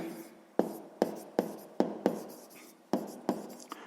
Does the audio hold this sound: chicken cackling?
no